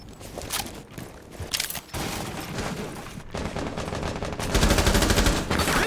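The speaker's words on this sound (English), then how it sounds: "That was almost a headshot for the second time now from the Jaeger, wallbanging the Jackal" Rapid bursts of automatic gunfire from a Rainbow Six Siege match, loud and close, with short gaps between volleys and sustained rattling fire toward the end.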